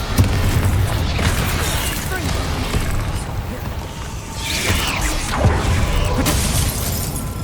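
Confringo spell blasts in Hogwarts Legacy go off amid loud combat, with heavy booms and shattering cracks over a dense, continuous din of battle effects.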